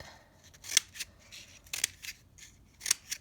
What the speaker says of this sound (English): So you're just going to snip